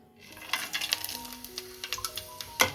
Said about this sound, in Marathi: तेल गरम झाले मस्त आता आपण खडे मसाले ॲड करू